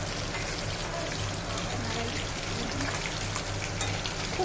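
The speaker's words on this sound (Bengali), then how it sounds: "দেখো এখানে ইলিশ মাছ ভাজছে" Hilsa fish pieces fry in a pan at home, giving a continuous close sizzling hiss with frequent sharp spitting crackles, while muffled voices murmur in the background.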